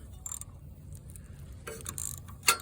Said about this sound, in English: I have the extension and the socket and the ratchet